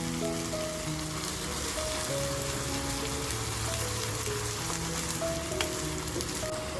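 Dry fish tadka sizzling hard in hot oil over a full gas flame, a loud, dense, steady crackle like heavy rain that runs on without pause.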